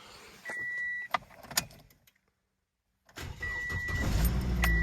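A car engine being restored starts up: a short burst of whirring and clunks, a brief silence, then the engine catches and runs with a loud, steady rumble that builds toward the end.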